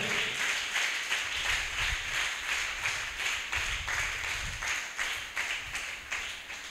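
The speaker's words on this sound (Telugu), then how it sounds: "ఆయనకు మహిమ ఆరోపించబడినట్లుగా చప్పట్లు కొడదాం." A church congregation at a Sunday worship service claps hands together in praise, a steady rhythmic unison beat of many hands that runs for several seconds and fills the room, with no talk over it.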